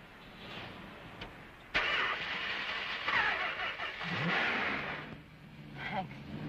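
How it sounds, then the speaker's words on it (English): A car engine in a 1971 crime film cranks and catches with a sudden jump in loudness, then runs and revs unevenly with a rough, mid-pitched drone, while voices speak faintly beneath it. "Try and start the car now."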